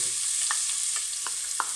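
Onion sizzles steadily in hot oil in a pan, a continuous close frying hiss with a few light stirring scrapes spaced through it, no voices.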